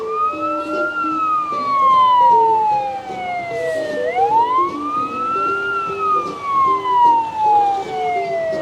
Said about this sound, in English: Those sirens can only mean another fire department coming through.